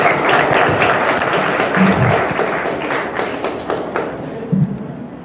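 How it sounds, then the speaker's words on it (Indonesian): An audience applauds loudly and continuously at an Indonesian leadership talk for the questioners, the clapping slowly thinning out, with a few soft thuds. "Beri tepuk tangan buat penanya-penanya kita."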